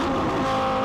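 Porsche Carrera GT engine roaring loud and close during a drag race against a Lexus LFA, a steady, sustained high-pitched rev in fifth gear with no pauses.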